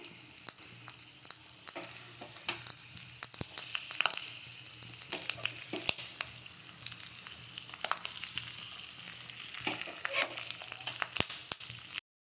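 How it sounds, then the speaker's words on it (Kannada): Mustard seeds, cumin, dried chilli and curry leaves sizzle in hot oil for a tempering, a steady close crackle broken by sharp scattered pops and spits throughout, with no talking. "ಸಾಸಿವೆ, ಜೀರಿಗೆ, ಒಣಮೆಣಸಿನ್ಕಾಯಿ, ಕರಿಬೇವು ಇಷ್ಟು ಹಾಕ್ಕೊಂಡಿದ್ದೀನಿ ಒಗ್ಗರಣೆಗೆ."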